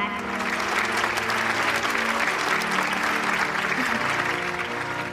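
Warm, sustained applause from guests at a naming ceremony for a new wine product, loud and continuous, with a faint tonal background hum beneath the clapping.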